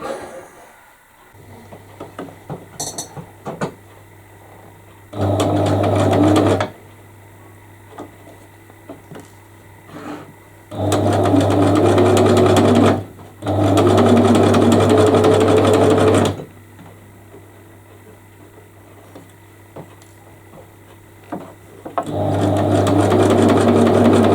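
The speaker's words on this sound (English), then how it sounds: "So it's get the sewing machine out." A sewing machine stitches aboard a moored boat in the snow, in several bursts of fast mechanical whirring, separated by quieter pauses with a steady low hum and small clicks.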